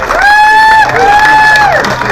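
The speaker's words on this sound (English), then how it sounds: "One more round of applause" At a farmers market forum, a crowd cheers loudly for Hemet City Council candidate Michael Perciful, with long sustained whoops and shouts ringing over a background of clapping and crowd noise.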